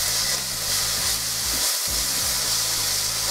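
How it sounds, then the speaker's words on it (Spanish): Chopped onions and a beef stock cube fry in oil in a large pan, a loud continuous sizzle and hiss with a brief stir near the middle, no voices. "en una sartén, vamos a agarrar una sartén grandecita, vamos a echar un chorro de aceite, las dos cebollas picadas en cuadritos"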